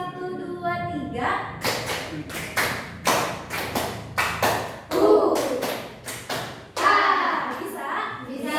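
Children in an Indonesian classroom clap together in a counting game, a series of close, crisp claps in uneven groups, with children's voices and a voice between the claps.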